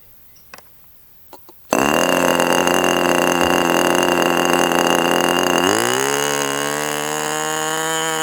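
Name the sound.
Fox 25 model glow engine running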